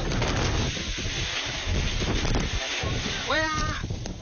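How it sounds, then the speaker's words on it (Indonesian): Strong whirlwind wind roars steadily in Dau, Malang, a loud continuous rushing buffet against the microphone with a brief bird call near the end, no speech. "angin kencang menerbangkan sejumlah barang-barang"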